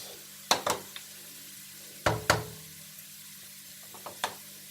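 Chopped green onion goes into a pan of soy sauce pasta, a soft, even sizzle broken by a few sharp clacks of a utensil against the pan.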